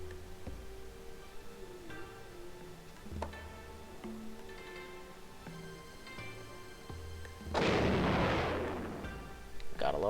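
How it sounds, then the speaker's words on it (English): Anti-aircraft flak fire in the Civilization III World War II scenario bursts out as a loud, dense barrage lasting a couple of seconds over steady background game music, with smaller pops trailing at the end. "Gotta love flak."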